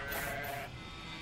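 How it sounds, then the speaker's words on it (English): A sheep bleats once in the video game Grow Home, a short, clear, wavering call heard alone. "There's sheep everywhere."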